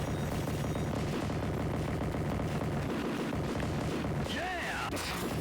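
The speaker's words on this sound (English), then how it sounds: "Oh man, got a rocket launcher." Explosive weapon fire from the 1990 arcade game Smash TV, a dense continuous barrage of booms and blasts with chaotic game effects, loud throughout with a brief rising electronic tone near the end.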